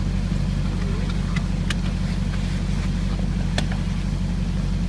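Ferrari or Maserati engine driving up a drive, a steady low engine drone throughout with a few faint clicks, no talk.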